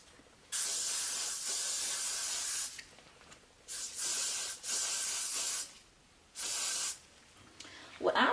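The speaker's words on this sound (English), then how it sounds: "I'm just gonna spray this on the lace so it won't dye my lace." Several long hissing bursts from an aerosol hairspray can sprayed onto wig lace, close by, separated by short pauses, with faint rustling at the end.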